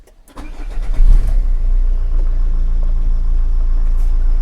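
A small Iseki tractor engine catches after a brief crank and settles into a loud, steady low running drone, close by and alone without talk.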